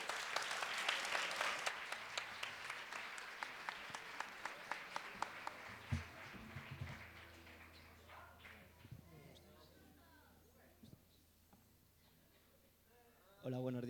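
An event audience breaks into applause at a gala, dense clapping that is loud at first then thins and fades over several seconds into scattered claps and murmuring, with a voice speaking near the end.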